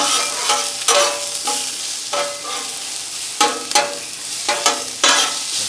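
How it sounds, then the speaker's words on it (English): Thinly sliced onions frying in a touch of oil on a Blackstone griddle for smash burgers, with a steady close sizzle and repeated spatula scrapes and taps against the flat-top. "I'll go ahead and take just a touch of oil. Just throw down on the onions."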